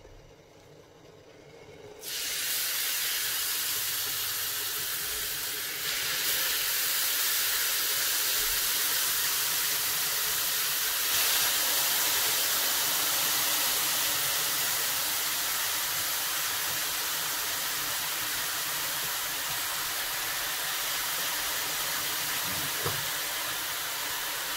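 Onions hit hot olive oil in a pan for a meat and orange tajine. A steady, loud hiss of sizzling starts after a brief quiet moment and carries on evenly, with faint clicks now and then.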